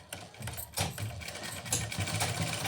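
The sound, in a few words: sewing machine stitching a salwar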